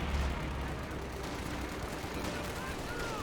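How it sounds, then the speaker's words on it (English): Strafing-run gunfire in Company of Heroes 2, a continuous rumble of distant, overlapping shots and booms under a caster's speech. "a strafing run"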